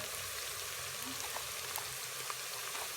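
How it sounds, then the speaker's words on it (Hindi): Food frying in oil with turmeric powder and salt for aloo gosht, a soft steady crackling sizzle, fairly faint and continuous with no speech. "1 चम्मच नमक भर के इसको अच्छे से फ्राई कर लेते हैं।"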